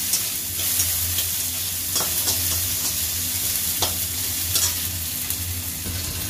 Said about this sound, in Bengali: এবার টমেটো গুলো দিয়ে ভালো করে নাড়াবো এটাকে, যতক্ষণ না টমেটোটা নরম হয়